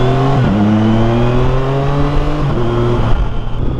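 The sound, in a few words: 2024 Triumph Tiger Sport 660 inline-three motorcycle engine riding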